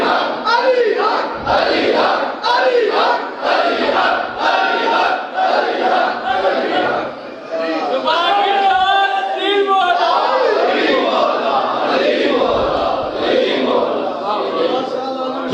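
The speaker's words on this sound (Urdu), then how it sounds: "اگر آپ ایسے نعرے لگائیں گے" A large crowd chants religious slogans in loud, continuous unison, voices rising and falling in steady rhythmic waves throughout.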